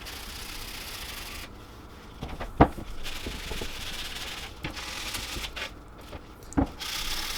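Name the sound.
sanding wood bench edges with fine grit sandpaper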